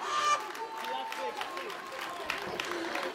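An audience claps for the winners of a cosplay contest at a fan convention, a dense steady patter of hands that runs through the whole moment while a voice on a microphone keeps talking over it.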